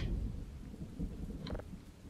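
Low thunder rumble and steady rain from a lightning storm in the game Garry's Mod, a faint continuous wash with a brief crackle near the end, no voices.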